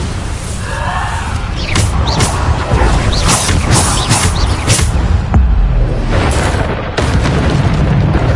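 Dense, continuous booming and crashing from the Bombardo explosion spell in Hogwarts Legacy combat, with repeated loud blasts and sharp bursts layered over a constant roar of battle noise, no talking.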